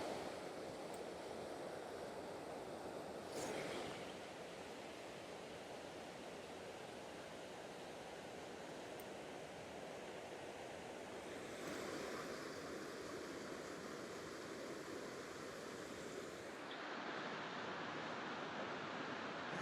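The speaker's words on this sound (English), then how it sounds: "Just a roaring, roaring creek down here." A roaring creek rushes below a trestle on a mountain bike trail, a loud, dense, unbroken wash of whitewater that fills the whole scene, with no voices.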